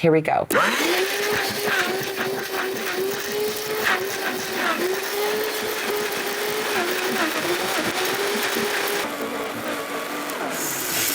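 A blender whirs loudly and continuously, churning vegetables, nut butter and buckwheat into a raw cracker dough, its motor pitch wavering slightly as the mix shifts. A voice speaks briefly at the start.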